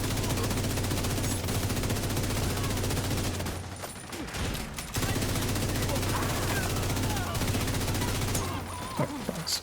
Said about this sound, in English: some bad shooting on my end